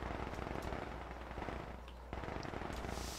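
MG42 machine gun fire in Company of Heroes 2, a rapid continuous rattle of shots with a brief break partway through, sounding at a steady distance, no talk.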